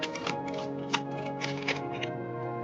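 A close, continuous crinkling rustle comes from a plastic bag holding accessories for a SYMA S51H remote-control helicopter, including a charging cable, spare propeller and battery tool, as it is handled up close without any talk.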